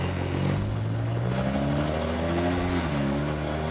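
A 900 whp Mustang GT accelerates hard in first gear, its engine note climbing steadily in pitch, loud and close throughout with no talking.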